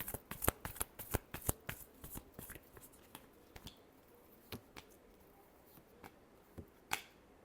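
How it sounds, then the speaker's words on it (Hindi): Tarot cards are shuffled by hand close up, giving a quick run of crisp riffling slaps that thin out into a few sparse flicks, quiet, with no voices. "Last shuffle."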